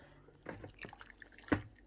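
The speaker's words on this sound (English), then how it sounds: "and then just some boiling water" Boiling water poured into a tiny one-person slow cooker, a short run of close splashing and trickling with a stronger splash near the end.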